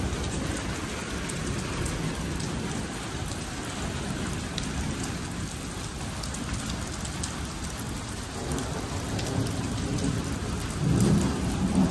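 Steady rain patters densely on surfaces, a continuous hiss with scattered drops, and a low rumble swells near the end.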